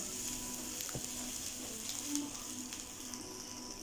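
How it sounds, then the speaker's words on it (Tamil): Onion sautéing with ginger garlic paste in a pan for restaurant-style chicken noodles gives a quiet, steady sizzle with a few faint scrapes of stirring. "ஒரு வெங்காயம் போட்டு நல்லா வதக்கிக்கோங்க."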